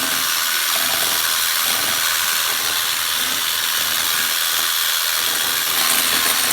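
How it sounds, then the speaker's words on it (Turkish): An electric hand mixer whisks two waffle batter ingredients until frothy. It gives a steady, close, high-pitched whirring buzz that runs unbroken throughout with no talking. "Böyle hani çırpıcıyla çırpıyorum. Vız yapan şeyle çırpıyorum."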